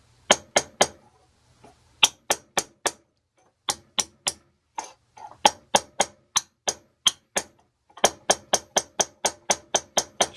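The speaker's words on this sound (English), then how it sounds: "I'm just going to give it some raps just to help the stuff flow down a little bit" Light raps on a small aluminum cylinder holding Loctite 290 threadlocker, sharp metallic taps in quick rhythmic groups of three to five with brief pauses, close and clear with no talk.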